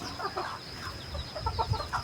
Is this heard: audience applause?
no